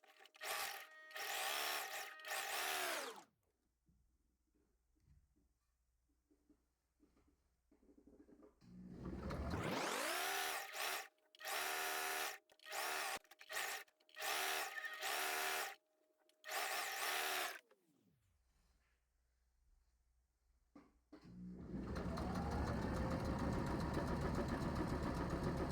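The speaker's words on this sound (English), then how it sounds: "we're now going to take this to our sewing machine, and we are going to sew them" A home sewing machine stitches the side seams of a top with a 5/8 seam allowance, running in several loud bursts of rapid motor whir separated by short pauses and quieter gaps, with no talking.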